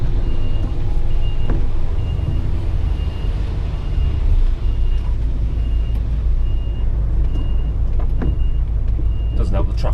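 An HGV truck reverses at night in London, its reversing alarm beeping in a steady, evenly spaced series over a constant heavy engine rumble.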